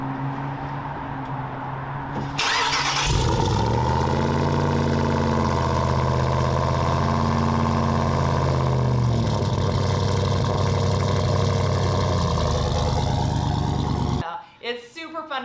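A Jeep's 6.4 Hemi V8, set up for off-road desert rallying, fires up after a quiet moment and settles into a loud, steady, deep idle close by before cutting off abruptly.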